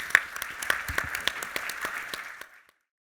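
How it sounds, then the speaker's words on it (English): A small audience gives a round of applause to a panel at an IT strategy event, with scattered, crisp handclaps that thin out and stop abruptly near the end. "A big round of applause."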